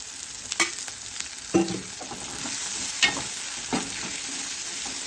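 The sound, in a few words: oil poured into a pan, sizzling and stirring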